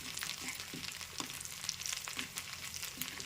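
Curry leaves and vegetables frying in groundnut oil in a pan, a soft continuous crackle and sizzle with small pops, close and fairly quiet with no talking.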